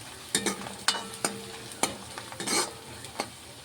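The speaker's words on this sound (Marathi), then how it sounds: "आता हे कांदा ना छान भाजायचा भाजून मस्त लाल करून घ्यायचा" Onion roasting in a pan gives a soft, close sizzle under a series of sharp scraping and clacking strokes as a spoon stirs it repeatedly, with no talking.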